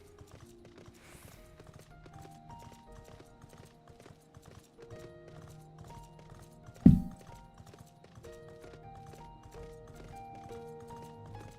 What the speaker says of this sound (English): the sound of the Garrow horses on the ground